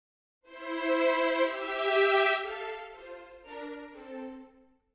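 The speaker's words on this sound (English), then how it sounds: "then short note playback sounds like this" Short-note first violins from the Spitfire BBC Symphony Orchestra sample library, played back in notation software: a few clean, close pitched string notes with clear attacks and quick releases, heard alone.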